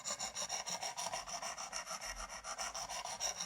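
A knife blade drawn across the abrasive of a precision adjust sharpener in quick, even, light strokes, giving a soft rhythmic rasping scrape repeated about seven times per second, close and fairly quiet.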